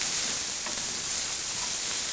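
Chopped bacon and garlic sizzle in a pan as they are stirred together for a soup, giving a steady, even frying hiss with no talk.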